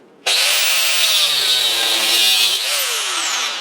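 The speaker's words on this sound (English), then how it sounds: "if you can't, or you don't have an angle grinder with a cutoff wheel, use a hacksaw" A hacksaw cuts through metal with one continuous, loud, steady stroke of harsh rasping that begins abruptly and runs unbroken close to the listener.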